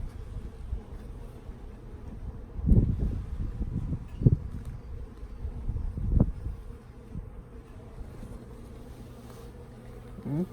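Honeybees buzz in a low, steady hum around an open beehive during an inspection outdoors, with a few louder close passes and rustling handling noises.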